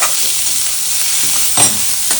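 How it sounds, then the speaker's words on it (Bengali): Onion and garlic fry in hot oil in a pan, a loud steady sizzle heard up close, with a couple of brief scraping stirs near the end. "পেঁয়াজ রসুনটা দিয়ে একটু ভালো করে লাল লাল করে ভাজা।"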